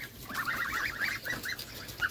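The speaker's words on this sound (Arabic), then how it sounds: "اجمل الطيور عندنا طيور الوز بصراحه" Several geese honk in a quick run of nasal calls, close by at a home poultry farm, with outdoor noise behind them.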